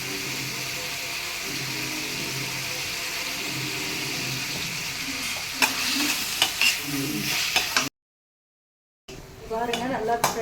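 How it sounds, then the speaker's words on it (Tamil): Prawns sautéed with a little turmeric sizzle steadily in a pan while a spatula stirs and scrapes, with metal clinks growing busier toward the end. The sound cuts out for about a second before the frying resumes. "பாருங்கள், நல்லா ஃப்ரை ஆகிடுச்சு"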